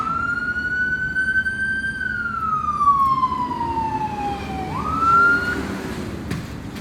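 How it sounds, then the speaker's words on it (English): A siren wails in a long slow sweep, falling then rising again, moderately distant over low road noise. "These sirens are killing me."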